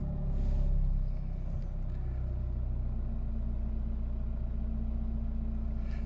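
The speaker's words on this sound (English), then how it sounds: "Turn it off, start it, and we'll have a look." A Nissan Navara engine runs close by at a steady idle, a low continuous rumble that swells slightly at first and then holds even.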